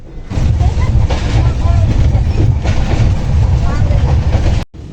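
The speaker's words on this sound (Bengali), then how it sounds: "ওঠার পর ট্রেনটা রওনা দিল আগরতলা টু গুয়াহাটির উদ্দেশ্যে" Loud, continuous rumble and rattle of a moving train from Agartala to Guwahati heard from inside, with rhythmic clatter, ending abruptly near the close.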